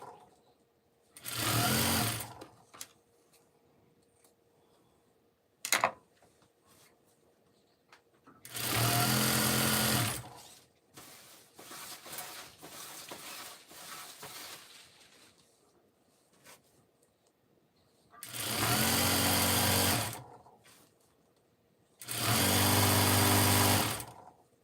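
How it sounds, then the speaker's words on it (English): A sewing machine stitches along a fabric edge in four separate bursts of rapid whirring, each a couple of seconds long, with quiet handling noises between them and no talking. "And I sew it along the edge"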